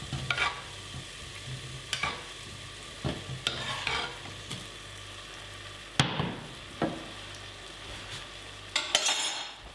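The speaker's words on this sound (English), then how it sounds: "And then you just cook the pasta with the sauce in the same pan for like a minute" Pasta finishing in quick tomato sauce in the same pan, with a low sizzle under repeated sharp spoon scrapes and knocks against the pan every second or two, close by and without speech.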